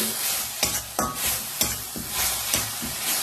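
Mankochu paste with garlic and onion is sautéed and stirred in a hot pan, giving a steady close sizzle broken by several sharp scraping stirs at a loose rhythm, with no talking.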